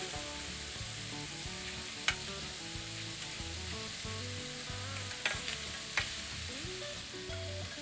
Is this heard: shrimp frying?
yes